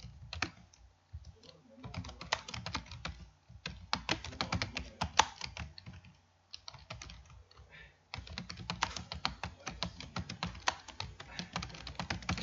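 Close, crisp clatter of typing on a computer keyboard, bursts of rapid keystrokes separated by short pauses, quiet and alone with no talking.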